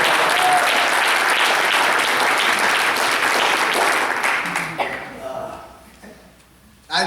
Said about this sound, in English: Give it up for yourselves.